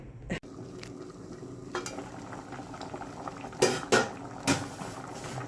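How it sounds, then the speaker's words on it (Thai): A pot of fish curry boiling on the stove, bubbling continuously at close range, broken by several sharp clinks of a pot and utensils. "หม้อแกงก็เดือดแล้วนะจ๊ะเนาะน้องก็จะมาใส่ปลานี่จ้ะ"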